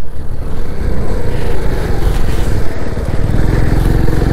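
A TVS XL moped climbs the Gata Loops mountain road in Ladakh, its small engine droning loudly and steadily under strain, with rough low chugging and wind buffeting throughout.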